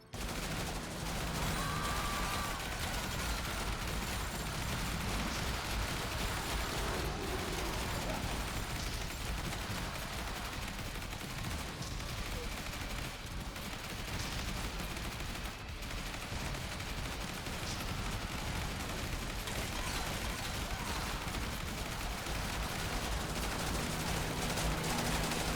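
Dense, continuous game audio from the zombie survival title Yet Another Zombie Survivors, with shotgun blasts blended into a constant wash of gunfire and explosions that never lets up.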